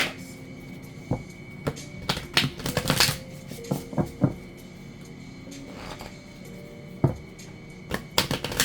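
Oracle cards shuffled in the hands, a run of quick papery riffles and soft slaps with irregular bursts and pauses, close and moderately loud, with no talking.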